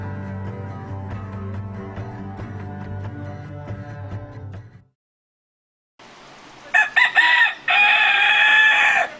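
Chickens clucking in low, rhythmic calls for several seconds, then after a brief silence a rooster crows loudly and close in a drawn-out cock-a-doodle-doo.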